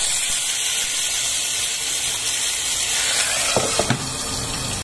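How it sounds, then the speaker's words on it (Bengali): Fish frying one piece at a time in hot oil in a pan give off a steady, close hiss of sizzling, with a few small clatters near the end. "এবার আমি একটা একটা করে মাছ নিয়ে ভেজে নেব"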